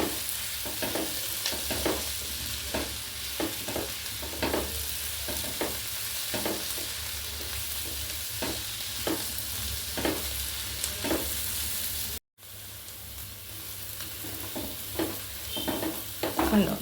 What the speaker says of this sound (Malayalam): അപ്പം അതിലേക്കെല്ലാം മാറ്റി വഴറ്റിക്കൊണ്ടിരിക്കുക.